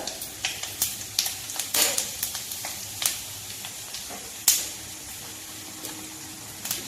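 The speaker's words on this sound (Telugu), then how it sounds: "ఆయిల్ వేడయిందండి దానిలో రెండు ఎండుమిరపకాయలు తాలింపు దినుసులు కొద్దిగా జీలకర్ర" Tempering spices, dried red chillies and cumin seeds, crackle and pop in hot oil, a series of sharp sputtering bursts over a low sizzle, close and fairly quiet, no voices.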